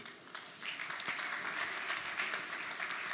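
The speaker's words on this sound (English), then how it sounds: "give a warm round of applause to Mr. Pierre Noel." A keynote audience applauds a speaker, the clapping rising quickly from a softer start into a steady, full wash of many hands that carries on evenly to the end.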